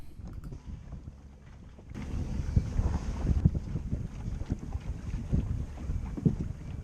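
Île de Sein island ferry, a combined passenger and cargo ship, with steady engine rumble and water wash building after a couple of seconds, buffeted by wind noise on the microphone, no voices.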